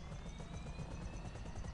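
A helicopter in a GTA video game beats steadily with rapid, rhythmic rotor chops and a faint high whine, close and loud, with no talk.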